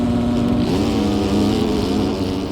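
Several motocross bike engines in the video game MX Bikes drone and rev together at an arenacross race start, a dense buzzing roar that rises in pitch partway through, loud and close with no voices.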